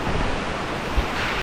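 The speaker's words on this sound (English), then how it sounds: "That is an insane waterfall." Steady, dense rush of a powerful waterfall on a rocky brook trout stream, continuous broadband roar filling the whole moment, close and loud with no voices.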